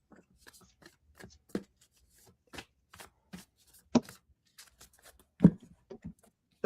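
Brand-new Moonology oracle cards being shuffled by hand, giving sparse, close soft taps and riffles at an uneven rhythm, with a few sharper slaps and no talking.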